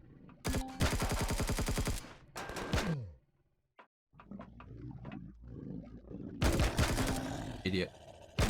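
Bursts of gunfire from the Empyrion Galactic Survival video game, loud rapid volleys that stop and start, with a short near-silent gap in the middle before another burst.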